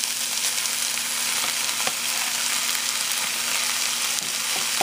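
Yogurt hits a hot pan of chicken a la king, and a steady loud sizzle of frying runs throughout with faint stirring scrapes, close and continuous with no talk.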